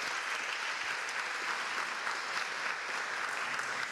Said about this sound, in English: Let's give Shamaria a round of applause.